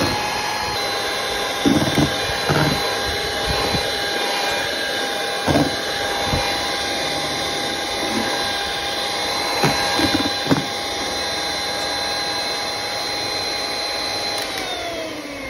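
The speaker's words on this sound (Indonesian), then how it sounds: "dikocok kurang lebih 15 menitan ya pakai hand mixer" A hand mixer whisking opera cake batter at speed 3, a steady loud whirring motor drone with a constant whine and occasional bumps of the beaters against the bowl, no talking.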